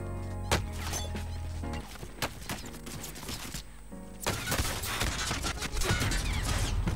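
Gunfire in the video game Call of Duty Warzone crackles in rapid, loud bursts with sharp impacts, growing denser and more intense in the second half over a busy game soundscape.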